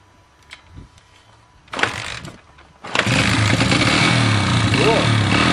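A Honda motorcycle fires up on its first cold start with the choke on. A few faint mechanical clicks and a short cranking burst come first, then the engine catches and settles into a loud, steady, close idle.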